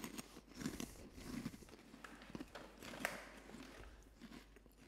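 Crunchy Cornitos Crusties King Curry corn snack bitten and chewed close up, a steady run of crisp crunches and mastication over about five seconds, fairly quiet, with no talking.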